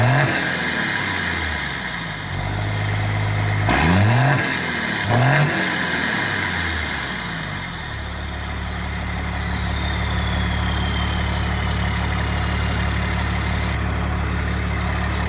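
A first-gen diesel heavy tow rig, fitted with 7x.011 148-degree SAC injectors and running with its injection pump advanced, idles with a loud, steady clatter. It revs up and down twice, then settles into an even, droning idle.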